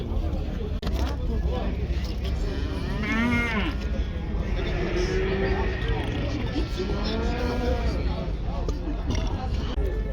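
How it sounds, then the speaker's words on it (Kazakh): Heifers at a livestock bazaar, several loud drawn-out moos close by over a constant crowd murmur, with people talking and haggling throughout. "Бірінші тума қашар екен."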